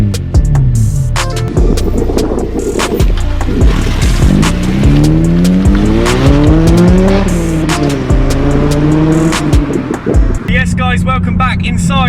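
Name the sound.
Honda Civic Type R EP3 with M2 Performance back box exhaust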